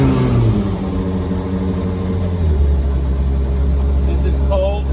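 Cold Radical RXC race car engine idling loud and steady with a low rumbling drone and uneven harmonics, close by, with no talk over it.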